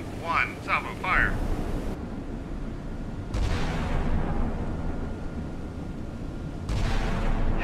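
Naval guns firing a salvo in the naval warfare game Sea Power, set in the Strait of Hormuz: two heavy, rumbling booms a few seconds apart, each followed by a long roar, after a brief stretch of voice at the start.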